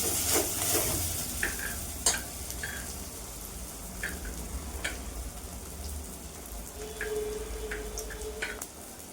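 Batter-wrapped mourala fish fry in hot mustard oil in a kadai, giving a steady sizzle with occasional stirring scrapes and soft clicks, close and moderately loud.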